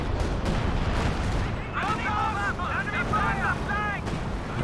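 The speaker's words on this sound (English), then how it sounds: "decent walking Stuka barrage" Stuka dive-bomber barrage explosions in a World War II strategy game, a string of dull booms and rumbling blasts behind a continuous voice talking over them, with the detonations rolling in succession.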